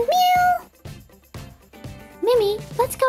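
A person's voice imitates a cat, giving two drawn-out meows separated by short bursts of speech.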